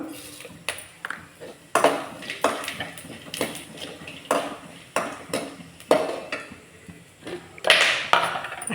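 Sharp crackles and pops burst repeatedly from cumin seeds in hot oil, a close, busy spluttering with bright ticking accents scattered throughout, no voices.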